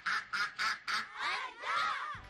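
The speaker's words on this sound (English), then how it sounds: "It is a duck indeed." A duck quacks four times in quick succession, then gives longer drawn-out calls, heard clearly and close as part of a guess-the-animal game on a children's show.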